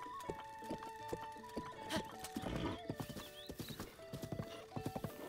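Galloping horse hooves from riding in Zelda: Breath of the Wild, a steady clip-clop rhythm with occasional neighs over game music, loud and close throughout.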